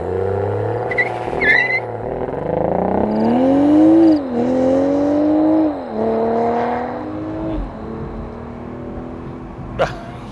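BMW Z4 M40i roadster with the top down, under 400 horsepower, accelerating hard through several gears, the engine note rising repeatedly and dropping at each shift, loud and close.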